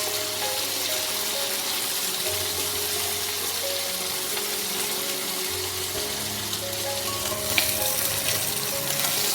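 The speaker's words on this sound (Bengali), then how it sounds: "একটু হালকা লাল করে ভেজে নিতে হবে।" Prawns fry steadily in hot oil for a Bengali papaya-and-shrimp ghonto, a continuous close sizzle with a low hum running underneath and no voices.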